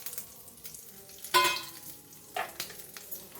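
Panch phoron, Bengali five-spice, fries in hot oil for a potato curry, with a soft steady sizzle punctuated by a couple of sharper hissing bursts and clinks as the spices are stirred, close and fairly quiet.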